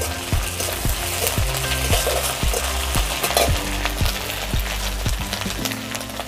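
Onions frying in a pan with garlic paste, loud steady sizzling under repeated regular scrapes and stirs of a spoon, close and continuous with no one talking.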